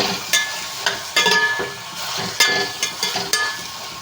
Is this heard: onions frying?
yes